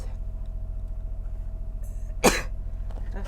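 A single sharp sneeze bursts out at close range amid a steady low background hum, brief and loud against otherwise quiet surroundings.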